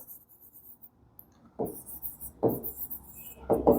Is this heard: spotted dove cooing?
no